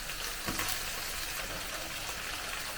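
Mussels and pasta cook in an oiled pan for a mussel aglio e olio pasta, giving a steady, soft, even sizzle with no breaks.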